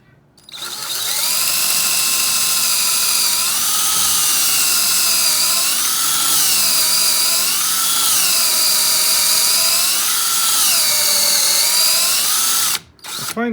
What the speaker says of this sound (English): I find that it's best not to drill too quickly, or it burns the wood.